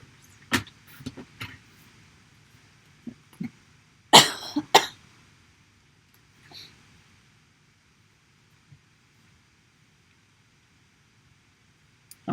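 Several sharp coughs from one person indoors, a couple of isolated ones early, then a close, loud cluster of two or three in quick succession, followed by a softer one and long near-silence.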